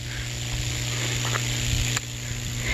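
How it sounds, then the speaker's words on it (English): Loud, steady electrical buzzing from the electromagnetic field of power lines on a humid day, heard along the Appalachian Trail. A constant drone with a low hum and a hiss above it. "that polar water will react with the electromagnetic field and make this buzzing noise."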